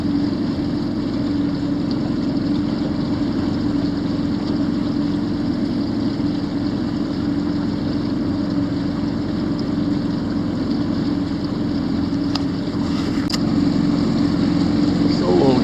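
A motorboat running out on dark, clear Louisiana water, with a steady low engine hum throughout, fairly constant in level, and a few faint clicks near the end.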